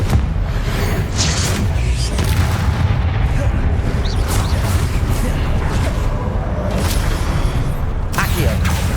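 Loud, continuous spell-combat blasts from Hogwarts Legacy as the Confringo blasting spell is cast over and over, dense booming explosions and impacts layered with fast battle effects and shouted spell names throughout.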